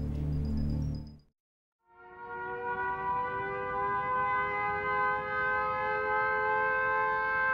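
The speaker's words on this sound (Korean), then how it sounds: "갑자기 공습경보 사이렌이 울린다." A wartime air raid warning siren wails steadily and loudly with a sustained, rising multi-tone drone after a brief low rumble and a moment of silence.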